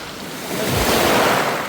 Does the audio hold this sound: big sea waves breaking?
yes